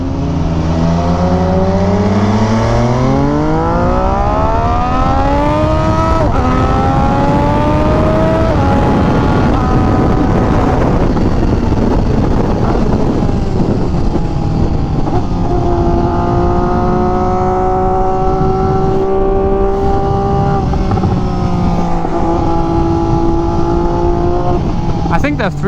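An MV Agusta Superveloce motorcycle fitted with an SC Project exhaust roars loudly throughout, its engine note rising and falling through gear changes, with a rider's voice talking over it.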